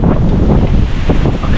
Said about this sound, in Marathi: तर तुम्हाला अंदाज येत असेल किती वारा जोरात आहे